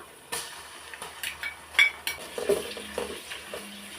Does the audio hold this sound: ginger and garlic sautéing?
yes